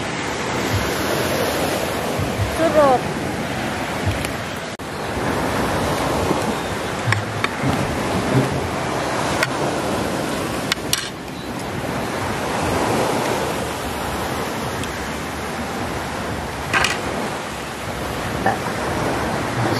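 Continuous ocean surf at night in Panglao, Bohol washes and rumbles steadily, with waves breaking nearby under a broad, windy hiss and a few faint clicks.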